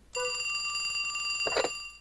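Telephone ringing in the video game Trauma Center New Blood, a bright, steady electronic bell tone with a fast trilling buzz, loud and close, with a brief burst of other game noise near the end.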